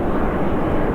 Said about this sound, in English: That sound is the roar of an A400 plane